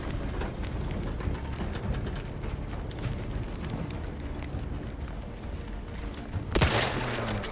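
Gunfire in the video game Outer Worlds 2 with a lever-action rifle: dense crackling shots and impacts run throughout, with one sharp, louder report standing out near the end.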